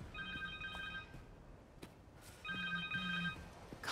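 Connor's cell phone rings in Marvel's Spider-Man 2, two quiet bursts of a warbling electronic ringtone separated by a short pause, soft and fairly distant.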